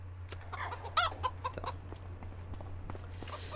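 Video game chickens in Farming Simulator 25 cluck in short, scattered bursts over a low steady hum, with synthetic, game-like clarity and no talking.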